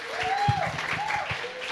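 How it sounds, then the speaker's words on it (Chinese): Church congregation applauding as a member is welcomed up during a Sunday service, a steady wash of clapping with faint voices and a tone underneath. "来，大家热烈掌声。"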